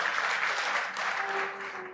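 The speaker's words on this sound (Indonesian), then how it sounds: "Tepuk tangan buat firman dan Roh Kudus" A congregation applauds at a night prayer church service, a dense burst of many hands clapping together that holds steady and then eases slightly toward the end.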